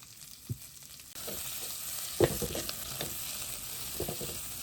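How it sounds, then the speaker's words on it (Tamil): Green chillies and garlic are tempered and sautéed in a pan for a Tamil fish curry, with a steady sizzle that swells partway through, along with occasional scraping stirs and soft clicks of a utensil against the pan. "நல்லா தாளிங்கோ. இதை வதக்குங்க."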